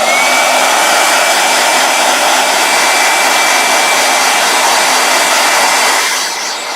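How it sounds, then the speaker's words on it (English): A blow dryer runs steadily nearby with a loud, broadband rushing hiss and a faint whine, continuing unbroken before easing slightly at the end. "All right, blow dryer."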